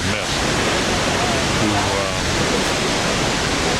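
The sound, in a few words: waterfall in Iceland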